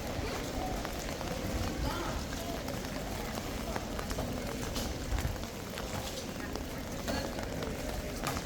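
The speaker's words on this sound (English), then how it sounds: "But you can hear the rain hitting my umbrella," Rain drums on an umbrella in a dense, continuous patter of fine taps, loud and close, with faint voices mixed in the background.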